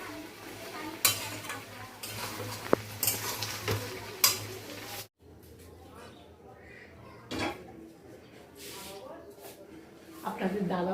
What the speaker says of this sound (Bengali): আর পুরিগুলো এবারে ভেজে নেবো